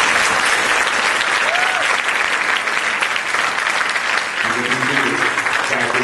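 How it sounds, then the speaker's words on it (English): A banquet crowd applauds a high school soccer team at a hotel ballroom, steady loud clapping filling the room throughout, with a low murmur joining near the end. "let's give them all just a big,"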